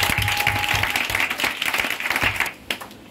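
A congregation applauding during a wedding ceremony at a church mission service, dense crowd clapping that is loud and sustained, then thinning and tapering off near the end.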